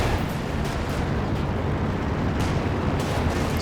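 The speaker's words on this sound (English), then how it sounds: "Is that zeroing artillery?" Distant artillery barrage rumbles on a battlefield in Company of Heroes 2, a 4v4 match, with steady low booms and crackling blasts forming a continuous dense roar throughout, no distinct single impacts standing out.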